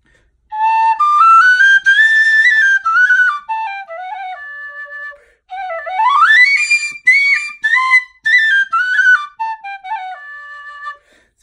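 High D tin whistle with a stabilized dyed burl wood fipple plug and aluminum fittings, played solo in a bright melodic phrase of quick notes, slides and trills, pausing briefly midway before a second run.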